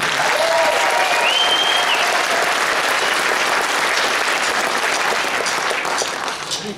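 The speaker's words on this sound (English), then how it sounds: "Good round of applause for the band here." Concert audience applauds the band, a dense, loud, continuous wash of clapping with some crowd noise that holds steady and begins to fade at the very end.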